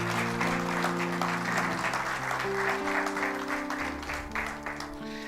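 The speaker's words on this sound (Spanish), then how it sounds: "Dale un aplauso al Señor entonces." A church congregation applauds for the Lord in loud, sustained clapping over held keyboard chords, continuing steadily throughout.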